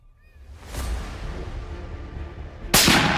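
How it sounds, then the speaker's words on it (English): A single sharp gunshot cracks out near the end after a quiet, windy stretch, loud and abrupt against the still background. "a gunshot shatters the silence"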